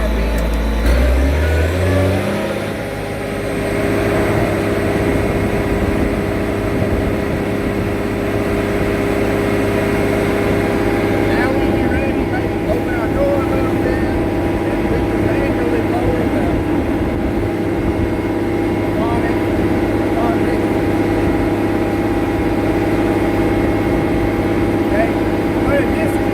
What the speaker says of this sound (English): We're going to put it in the high RPM.